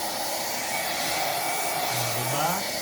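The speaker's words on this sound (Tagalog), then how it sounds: "Kailangan i-blower." Hair dryer used as a blower to dry a surface after household cleaning, a steady loud whooshing hiss running throughout with a slight pitch shift near the end.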